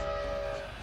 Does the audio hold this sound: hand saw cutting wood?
no